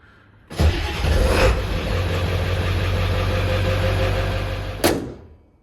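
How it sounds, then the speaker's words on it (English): A Ford 7.3 Powerstroke diesel engine in an OBS truck, with a newly installed downpipe, cranks and catches, then idles with a steady, loud, rough diesel clatter before a sharp transient and a fade as it shuts down. "I'm going to fire it up. Check for leaks at the turbo or down below."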